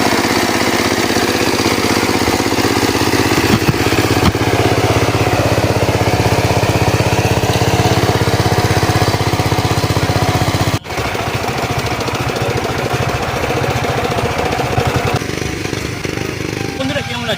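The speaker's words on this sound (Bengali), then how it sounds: "এখন আমি পাওয়ার টিলার নিয়ে যাচ্ছি বাগানে" A power tiller engine runs in a garden plot, a loud, close, continuous mechanical drone that holds steady with a brief dip partway through, with voices faintly audible beneath it.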